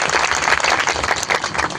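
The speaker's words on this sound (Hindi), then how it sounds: "जोरदार तालियां बजा दें" Loud, close applause from an audience at a Hindu religious gathering, a brisk rhythm of hand claps filling the whole short stretch.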